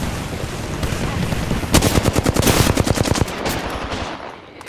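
Rapid automatic gunfire from a video game weapon, a dense burst of loud cracking shots in quick rhythm through the middle, tapering off with no talk.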